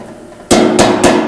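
A hammer taps a freshly welded metal fuel tank three times, each a loud, sharp ringing metallic strike with a short decay, following a quiet lead-in with no talking.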